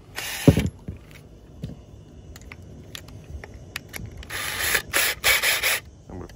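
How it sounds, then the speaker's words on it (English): Mechanical clicks and ratcheting from a drill chuck being loosened and tightened while swapping from a step bit to a Forstner bit, with scattered taps, a sharp burst near the start and a busier run of clicks toward the end. "Now I'm going to switch the bits."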